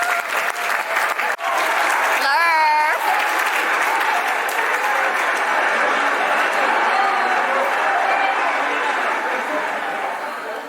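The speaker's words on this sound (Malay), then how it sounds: "Sila berikan tepukan yang gemuruh." Audience applause at a theatre performance, sustained loud clapping from a large crowd filling the whole stretch, with a brief whistle and scattered voices in the mix.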